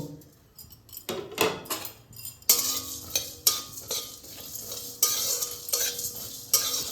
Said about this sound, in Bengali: এখানে যে গোটা গোটা মশলাগুলো আছে এইগুলো আমি ভেজে নেব।